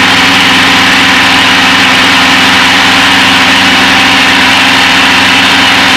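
A light aircraft engine runs steadily at cruise throttle, a loud, unbroken droning hum with an even tone from start to finish, heard from inside the cockpit without talk.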